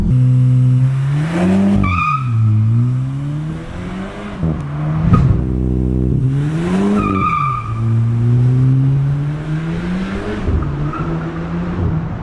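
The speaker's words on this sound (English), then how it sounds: "I've also played with the launch control, so if you can throw in some launch shots right now." A tuned front-wheel-drive VW Golf MK8 GTI does a launch control start. The engine revs climb and fall in loud, close surges with a hint of tire squeal, and no voices are heard.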